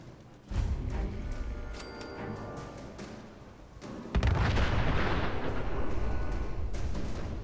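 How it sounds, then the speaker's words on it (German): A car explodes in Fallout 4: a loud explosion bursts out, followed by sustained roaring, crackling blast noise; an earlier boom and rumbling precede it. "Ich hab gewusst, dass das Auto explodiert."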